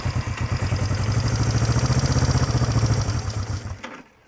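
A Honda CB350 motorcycle with carburetor cables pulled out runs up in rapid, evenly pulsing revs, loud and close, then cuts off abruptly near the end.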